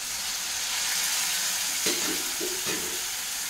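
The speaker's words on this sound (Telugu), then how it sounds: "కొద్దిగా వాటర్ కూడా యాడ్ చేస్తాను" Water is added to a tamarind curry in a hot pan, which keeps up a constant sizzling hiss broken by a few soft stirring knocks, with no voices.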